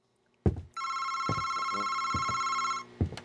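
An old-style telephone bell rings steadily for about two seconds in the horror video game August Night, loud and close, with footsteps thudding before, during and after the ring.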